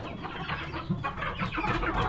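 Young fighting chickens, about three months old, cluck and squawk in a close, busy flurry of short overlapping calls.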